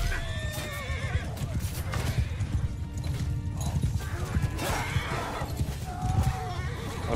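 Horses in the video game Mount & Blade II: Bannerlord gallop with a dense, continuous clatter of hooves, and several whinnies cut through the thick battle noise.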